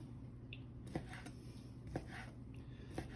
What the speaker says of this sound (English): just cut them nice and thin